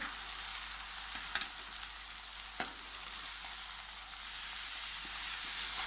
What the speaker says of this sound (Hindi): अब हम इसमें डाल देते हैं अपना कटा हुआ टमाटर। इसको भी हम अच्छे से मिक्स कर लेंगे।